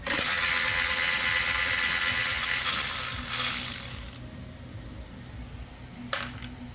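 A ratchet clicks steadily as it backs out the carburetor bolts on a Kohler engine with a dual-barrel carburetor, loud and close at first, then fading to quieter shop ambience with one brief click near the end.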